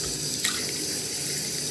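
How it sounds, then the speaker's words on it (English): Tap water runs steadily over a leg, a continuous close hiss and splash with no talk, a brief splashy flick near the start. "I'm just letting water, which I believe is the blood of Jesus, to run through it"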